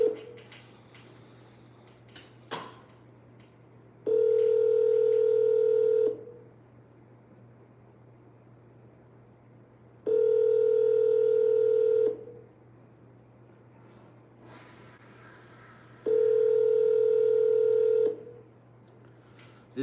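A telephone ringback tone repeats in three long, even bursts of about two seconds each, separated by silent gaps, while a caller redials a seller's phone over and over; a low steady hum runs underneath throughout.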